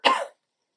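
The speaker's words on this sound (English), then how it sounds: "Sorry, you'll have to excuse my my coughing." A single short, sharp cough from one person, close and fairly loud, then silence.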